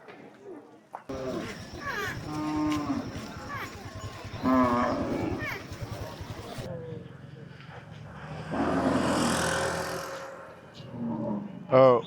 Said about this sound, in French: On va passer maintenant dans le coin avec des vaches